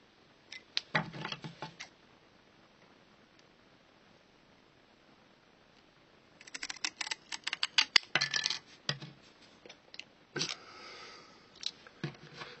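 Scissors cut lengthwise along a strip of Bristol paper for a moped's racing membrane: bursts of crisp snipping and rustling between quiet stretches, close and fairly faint.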